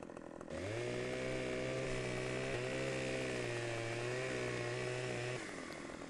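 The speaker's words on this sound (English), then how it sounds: "Take my chainsaw." Chainsaw from the video game Farming Simulator 15, cutting a log to length: a loud, steady engine drone with strong harmonics holds for about five seconds, with a brief dip midway, then cuts off, no talk.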